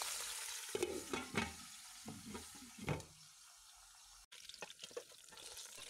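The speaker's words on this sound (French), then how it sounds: "on laisse nos souris d'agneau dorer" Browned lamb shanks sizzle in oil in a tagine pan, with intermittent scraping and turning noises from a utensil and a short watery hiss, fairly quiet and close, with no voices.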